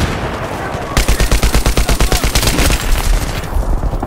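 Rapid automatic gunfire from a Battlefield 3 match on the Sharqi Peninsula map, a loud, steady rattling burst of shots lasting about two and a half seconds, close and dominant, with a quieter lead-in before it.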